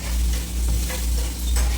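Chopped onions fry in a pan for chilli chicken, a bright sizzle that swells in several rhythmic surges as a spoon pushes them around, close and fairly loud with no voices.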